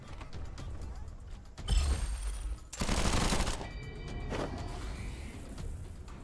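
Video game gunfire crackles in quick bursts, with a dense loud volley near the middle and lighter mechanical clicks and whooshes around it, no talk over the shots.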